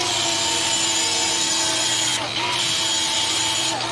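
Steady abrasive grinding as burrs are taken off a metal tip, a continuous close rasp with a brief pause near the end.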